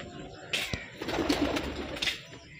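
Pigeons coo softly nearby during a pigeon-flying competition, with a few fluttering wing sounds and faint outdoor background noise.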